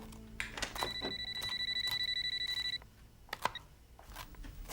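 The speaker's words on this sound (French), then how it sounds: "Clara, répondez au téléphone." An indoor telephone rings with a trilling electronic tone lasting about two seconds, amid faint knocks and rustles in a quiet room.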